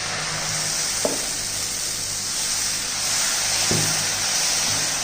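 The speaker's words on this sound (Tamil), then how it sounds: "நம்ம தோசை ஊற்றுவோம்." Dosa batter sizzles steadily on a hot, oiled dosa griddle, a continuous bright hiss with a couple of faint clinks, close and fairly loud with no talking.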